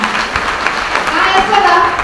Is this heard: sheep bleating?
no